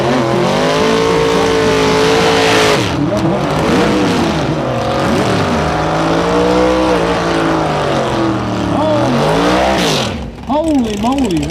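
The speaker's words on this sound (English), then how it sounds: "that's an awful lot of horsepower rumbling away under there" Drag racing car engine rumbling at a quarter-mile drag strip during a race event, loud sustained engine roar with repeated revving sweeps rising and falling, close by, with a voice talking over it.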